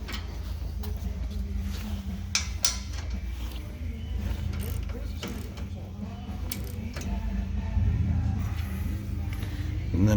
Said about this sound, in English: I'm going to go ahead and tighten up this crossbar bolt on each side.